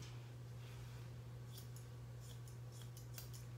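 Scissors snipping through a Yorkie's long coat as it is trimmed level with the shaved ears, a run of quick, faint clips over a steady low hum, with no talking.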